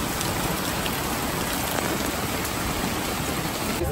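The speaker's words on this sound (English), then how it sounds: "It is pouring." Heavy rain pours down steadily on an outdoor surface, a dense, continuous wash of drops that stays loud and even throughout, with no voices.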